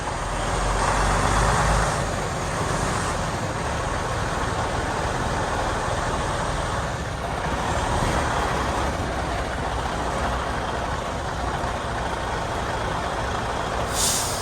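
Truck backing up a trailer in a tight space, a steady engine rumble with air brake hisses and mechanical noise running throughout at a moderate distance.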